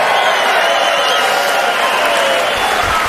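Dense, roaring applause and cheering from a large crowd at a Donald Trump rally in Phoenix, sustained and loud throughout without a break.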